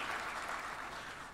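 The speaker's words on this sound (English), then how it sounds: "Okay, this is a point at which you all applaud." At the launch of the Ghana Tree Crop Diversification Project, a large audience claps in a dense, steady burst of applause that carries on throughout without any voices.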